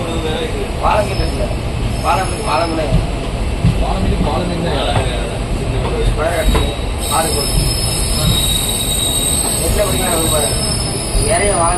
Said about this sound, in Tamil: கோயம்புத்தூர் ஜங்ஷன்லேருந்து ட்ரெயின் மூவ் ஆயிடுச்சு